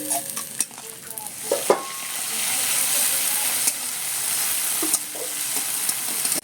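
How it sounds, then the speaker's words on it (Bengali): Ginger garlic paste frying with browned onions in a hot pan gives a loud, constant sizzle, with a few louder scraping stirs and clatters near the start and around the middle. "এরপর আদা রসুনের পেস্ট দিয়ে দেব"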